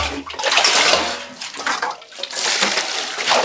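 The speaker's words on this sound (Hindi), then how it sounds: "जो ड्राम है वही वाला पानी सब में डाल देते हैं।" Water poured from a drum into containers, a loud, close splashing gush that surges and briefly dips before pouring on steadily.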